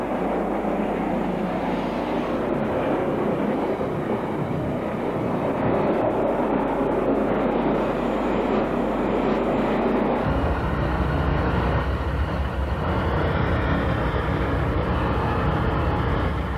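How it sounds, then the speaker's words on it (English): A Swindon intercity diesel multiple unit passes in late-1960s Britain, a loud continuous rumble of engine and wheels that rises and shifts partway through as the train goes by, with no voices. "put this Swindon intercity unit."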